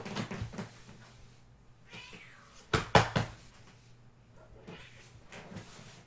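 A house cat meows a few times, with a sharper knock-like thump in the middle, close by in a quiet room with faint background hum.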